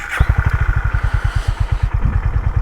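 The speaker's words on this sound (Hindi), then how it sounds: "और अब स्टार्ट करते हैं बाइक को" A Honda H'ness CB350 motorcycle starts up and settles into a steady, loud, close idle with an even thumping beat that holds throughout.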